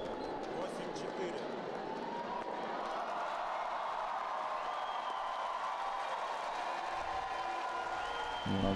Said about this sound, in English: the Russian fans with a lot to cheer about